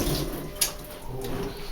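A cup of water pouring into cornbread dressing mix, a steady close splashing trickle with one brief brighter splash partway through, no voices.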